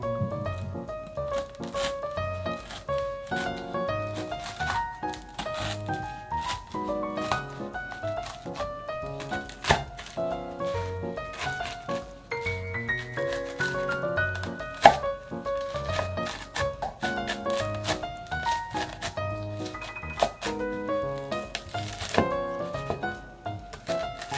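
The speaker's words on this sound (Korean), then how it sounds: "차갑기 전에 따뜻할 때 먹기 좋은 크기로 자르세요." A knife cuts warm puffed-rice gangjeong studded with peanuts and black sesame into bite-size pieces, making repeated sharp chops under steady background music.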